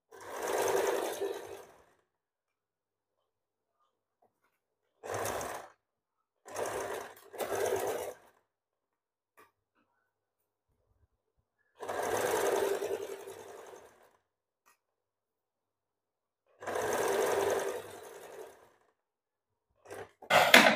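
A sewing machine stitches blouse fabric in separate bursts of rapid mechanical whirring, some long and some short, with silent pauses between runs while the cloth is turned and lined up.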